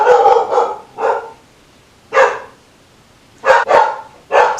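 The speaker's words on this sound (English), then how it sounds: "why is my dog barking?" A pet dog barks indoors in bursts: a quick double bark, then single barks with pauses between them, loud and close, ending in a rapid pair and a final bark.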